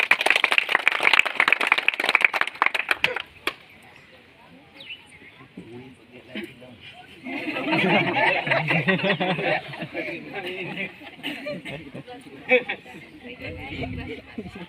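An audience at a community get-together claps loudly in a dense burst of applause at the start, which then fades into chatter and scattered voices.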